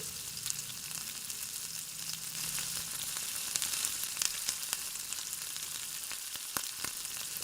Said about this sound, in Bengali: তারপর ভালো করে নেড়ে চেড়ে পেঁয়াজগুলোকে ভেজে নেব বাদামি রং ধরা পর্যন্ত